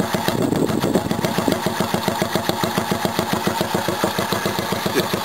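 A mini bike engine with a straight pipe and no muffler runs close by on a cold start, a loud, rapid, even popping putter that holds a steady idle rhythm throughout.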